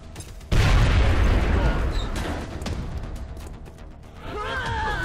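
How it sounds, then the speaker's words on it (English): Grenade explosion in XCOM: Enemy Within, a sudden loud boom with a long rumbling tail that fades over several seconds before a voice begins speaking. "A grenade, of course."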